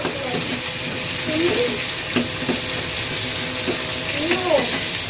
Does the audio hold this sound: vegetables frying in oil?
yes